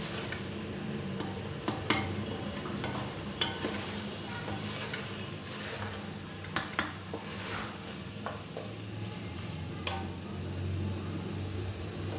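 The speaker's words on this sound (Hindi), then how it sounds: "मज़ीद हम इसको 2 से 3 मिनट भून लेंगे" Moringa (sohanjna) roasting in ghee in a pan, a steady soft sizzle with occasional sharp clinks and scrapes of a spoon stirring against the metal, continuous and close with no voices.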